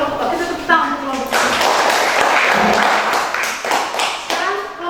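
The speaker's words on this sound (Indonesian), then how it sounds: "Kita tepuk tangan untuk kelompok" A classroom group claps together for a presenting group, a brief burst of hand claps that swells for a few seconds, with voices and children's chatter mixed in before and after.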